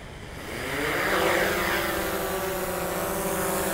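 A DJI Mavic 2 Pro drone spins up and lifts off, its propeller whine rising in a steady buzzing drone with layered harmonic tones that swell and climb in pitch, close by and holding loud.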